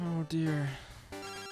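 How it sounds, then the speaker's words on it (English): A cell phone rings with a tonal, warbling tone alongside a voice speaking briefly over it. "My fucking cell phone going off."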